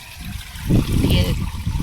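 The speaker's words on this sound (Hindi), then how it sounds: "ये देखो ये पानी चल रहा है" Water gushing and trickling from a pipe broken by a monkey near a gas stove at home, a steady close splashing flow that swells midway, with people talking over it.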